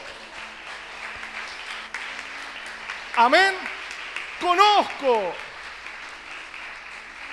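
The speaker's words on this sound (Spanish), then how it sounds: "Denle un fuerte aplauso." A church congregation breaks into applause during a Spanish-language sermon, a diffuse clapping wash under two loud bursts of voices calling out, with the preacher talking before and after.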